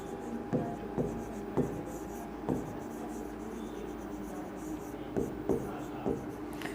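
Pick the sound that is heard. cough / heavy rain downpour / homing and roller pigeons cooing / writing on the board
writing on the board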